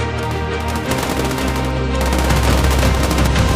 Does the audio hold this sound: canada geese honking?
no